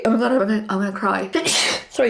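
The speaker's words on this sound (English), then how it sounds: "that was a sneeze, not a cry." A single sharp sneeze bursts out after a stretch of emotional talking, loud and close, with speech resuming right after.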